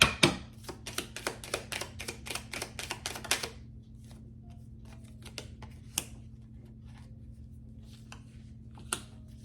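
Tarot cards shuffled close by in a rapid series of crisp flicks and riffles for about three seconds, then a quieter stretch with a few scattered soft card taps over a low steady hum.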